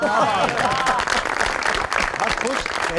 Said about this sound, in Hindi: सनी के लिए तालियां जी